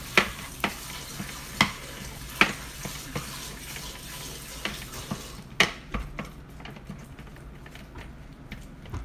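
Partially frozen meat being chopped up in a pan as it cooks, with a series of sharp, fairly close knocks and scrapes at an uneven rhythm over a steady sizzle, the hits easing off in the second half.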